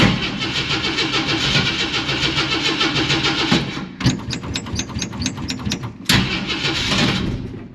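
A cold-blooded Ford 460 V8 in a Camper Special truck, with a troublesome carburetor, cranks in a rapid rhythmic chug, stumbles with uneven sputtering bursts, then catches and roars into loud, steady running close by.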